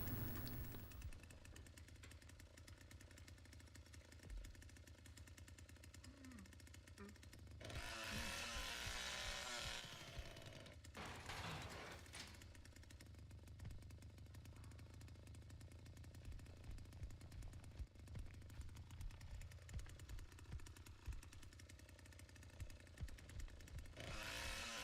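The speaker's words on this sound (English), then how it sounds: "Now is that gonna stall the chainsaw if I hold it all the way up?" A chainsaw runs steadily in the Texas Chainsaw Massacre video game, a low, continuous buzzing drone that holds for the whole stretch and surges briefly near the middle. It sounds fairly faint, and no one speaks.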